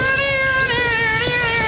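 A cat gives one long, drawn-out meow, loud and close, holding a steady wavering tone with no other voices.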